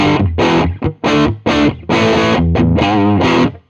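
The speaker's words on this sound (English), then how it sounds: "Here's the middle position of voice 2." A Teruya Old Soul electric guitar in the middle pickup position of voice 2 plays distorted chords, loud and close, in several punchy strummed bursts with short gaps between them.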